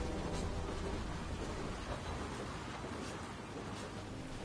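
Rain in the video game Beyond: Two Souls: a steady, dense hiss of rainfall that holds at an even level throughout, with no voices over it.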